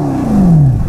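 Mercedes-AMG car engine revving in one smooth, loud pull lasting about a second, its tone sliding steadily downward as the revs fall, with no voices over it.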